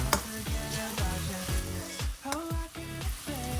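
Potato, onion, scallion and cabbage stir-fry in a pan with a dense sizzle, while a spatula scrapes across the pan roughly every half second in a quick, rhythmic series of swipes.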